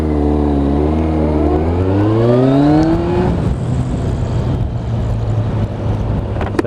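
A 2011 Kawasaki GTR1400 Concours motorcycle engine accelerating in second gear, rising steadily in pitch before settling into a loud, constant cruising drone with wind noise.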